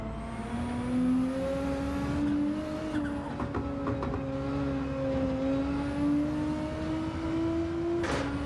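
Renault race car driven around a lap in Gran Turismo 7, engine holding a steady high drone with gentle rises and dips in pitch through gear changes, loud and continuous with no talk.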